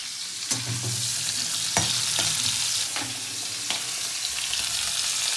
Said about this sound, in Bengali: মাছগুলো খুব ভালো করে ভেজে নিতে হবে।